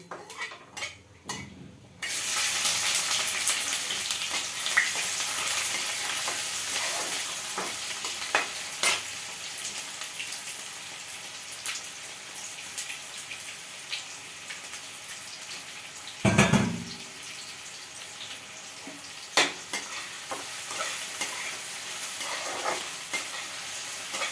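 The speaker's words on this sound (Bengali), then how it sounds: "আমি পেঁয়াজটাকে একটু ভাজা করে নেবো।" Chopped onions go into a hot pan and fry with a strong, dense sizzle. A spoon scrapes and clatters against the pan at intervals, with a louder stirring burst partway through. No voices are heard.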